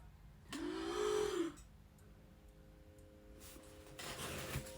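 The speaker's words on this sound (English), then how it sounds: "I heard a cat." A house cat gives a single drawn-out meow that rises and falls, fairly close and clear in a quiet indoor room, followed by soft background noise.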